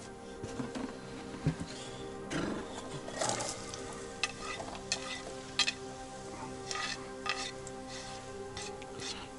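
Food fries in a pan at a tent camp on the White Sea shore, a faint, steady sizzle broken by frequent clinks and scrapes of stirring.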